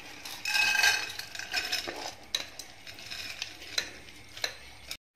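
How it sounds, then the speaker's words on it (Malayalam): Washed lentils tipped into a pressure cooker in a home kitchen, a brief rattling pour followed by scattered clinks and scrapes of a spoon against the metal pot, close and fairly quiet. "നമുക്ക് കുക്കറിലേക്ക് ഇട്ട് കൊടുക്കാം."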